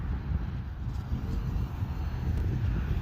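A Hobbyzone Aeroscout RC airplane flies outdoors with a faint, steady motor drone buried in a constant low rumble of wind buffeting the microphone, and no one talks.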